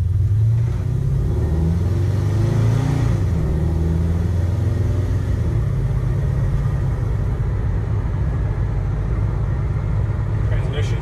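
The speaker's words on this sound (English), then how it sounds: "Transmission shifts nice and smooth." A 1967 Chevy C10 restomod pickup accelerating on a test drive, its engine rumbling steadily and loud from inside the cab, with a brief easing around a smooth transmission shift and a voice talking over the drone.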